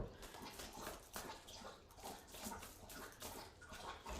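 A dog drinking water, quiet wet lapping in a loose repeating rhythm, faint and close with a soft watery background.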